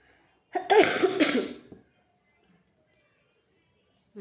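A single harsh cough burst from a woman with a cough that has lingered for many days, close and fairly loud, followed by silence.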